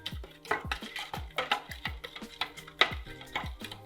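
A spoon stirs superfine sugar into water in a container, making close, rhythmic clinks and scrapes, about two per second, steady and moderately loud with no talking.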